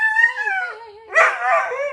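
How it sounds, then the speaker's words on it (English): A dog living near an Airbnb rental gives a run of high, drawn-out whining yips, then a louder, rougher burst of howling barks, close by and with no talking. "this is one of the dogs that's there by the Airbnb."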